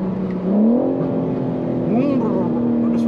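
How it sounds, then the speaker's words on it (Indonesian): BMW M4 Competition engine heard from inside with a window open, its tone rising then settling during a downshift, a steady close drone with a second brief blip; talk runs over it. "Pada downshift juga ada suaranya gitu."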